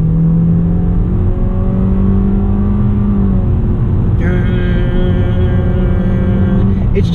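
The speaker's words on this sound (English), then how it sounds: "I just floored it for quite a bit there" A 2018 Toyota C-HR engine drones loudly under full-throttle acceleration, its pitch rising steadily and then dropping as the gear shifts, followed by more revving.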